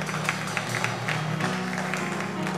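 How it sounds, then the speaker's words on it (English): A church congregation claps hands in praise, a steady, fairly close wash of overlapping claps with distinct sharp hits and a faint musical hum beneath. "let's give God another hand clap of praise right there."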